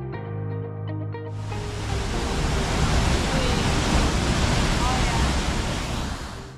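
A waterfall on the drive from San José to La Fortuna in Costa Rica roars as a loud, steady broadband rush. It begins abruptly after a brief stretch of other sound.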